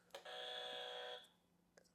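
A game-show buzzer sound effect gives one steady, harsh electronic buzz lasting about a second at moderate volume, with brief faint clicks before and after.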